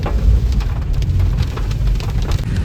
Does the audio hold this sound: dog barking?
no